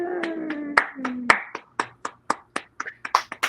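Hand clapping rings out in a quick series of about fifteen sharp, separate claps, close and fairly crisp, with a voice briefly heard at the start.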